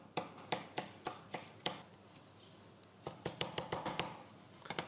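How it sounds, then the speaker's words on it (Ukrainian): A knife chops basil leaves finely on a board: a quick run of sharp, evenly spaced taps, a brief pause, then another fast burst of close, crisp chops, with no talk. "І зовсім трохи листя базиліку. Дрібно порізали."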